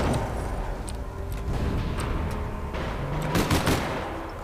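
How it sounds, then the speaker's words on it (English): Gunfire in the online game APB Reloaded, a sustained rattle of rapid automatic shots at moderate loudness, with sharper, louder bursts toward the end over a constant background rumble. "I'm shooting shit now."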